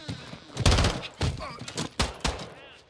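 Rapid gunfire rings out in the video game Call of Duty: loud, close bursts of automatic shots and single cracks that repeat in quick clusters.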